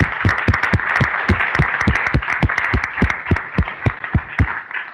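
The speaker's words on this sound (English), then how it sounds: "just a quick round of applause for our panelists" An audience applauds panelists at a blockchain and metaverse panel event, a loud, steady round of clapping with sharp, regular individual claps near the microphone.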